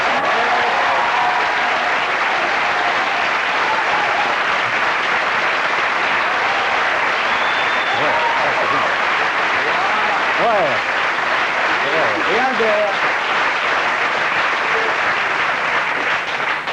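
A television studio audience applauds guests arriving on a French talk show, producing steady, loud, dense clapping that lasts throughout without a break, with a few cheers rising above it.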